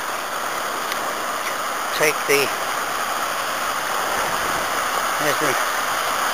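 River Teme water rushing through a mill race beside a walkway, a loud, steady broadband roar throughout, with a person talking briefly over it.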